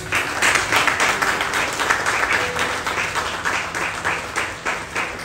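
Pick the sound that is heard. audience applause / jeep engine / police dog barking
audience applause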